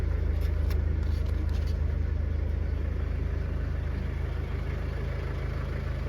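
A loaded car drives slowly along a rough farm road in Zimbabwe, its engine giving a steady low rumble from inside the cabin, with a few faint rattles early on.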